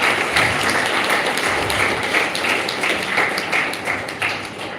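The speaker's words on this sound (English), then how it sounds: "I would like to a round of applause for Shefali Ma'am" A school award ceremony audience breaks into a loud, dense round of applause, steady clapping from many hands that fades slightly toward the end.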